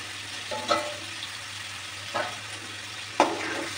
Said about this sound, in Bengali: এগুলোকে ভালো করে আর একটু নেড়ে চেড়ে নেবেন